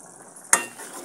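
A single sharp scrape of a spoon stirs a simmering ridge gourd and small puti fish curry in a pan, a quick close clack over a soft background sizzle.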